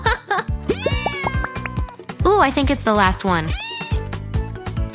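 Kittens meow repeatedly, high and close, in overlapping bursts while people talk over them.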